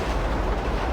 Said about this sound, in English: The only risk is that you meet the train.